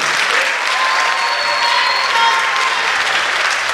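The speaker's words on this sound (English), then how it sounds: "Can we have another round of applause for them?" A full audience applauds performers after a cultural performance at an evening talent and tribute event, steady dense clapping filling the room without pause, with a faint tonal whistle or feedback line running through it.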